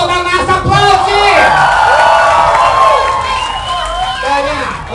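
A loud nightclub crowd at Boate Metrópole cheers for a drag performer, with shrill whoops, shouts and sustained hollering packed close together over a clamorous, continuous roar.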